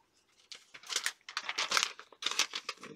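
A comic book slides into a plastic Mylar bag with a board, giving soft, close crinkling and rustling in several uneven bursts over a few seconds, quiet and without talk.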